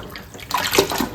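Wheat flour dough rinsed by hand in a bowl of water to wash out the starch and leave gluten, a close sloshing, splashing wash that swells louder partway through.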